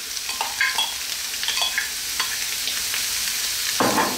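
Prawns and long pieces of ginger frying in a pan while being stirred, a steady close sizzle with several distinct clinks and scrapes of the utensil and a louder stir near the end, no talking.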